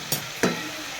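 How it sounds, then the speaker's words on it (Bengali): Goat meat being stirred with salt in a frying pan, two quick scraping stirs over a steady sizzle, close and alone. "লবণ দিয়ে নেড়ে নিলাম"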